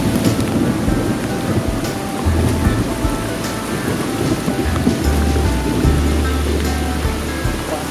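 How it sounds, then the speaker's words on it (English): Loud, low thunder rumbles repeatedly through steady heavy rain during a rainstorm on a hiking trail in Red River Gorge, the booms sounding close overhead and continuous across the stretch with no talking. "the thunder sounded like it was right above our heads"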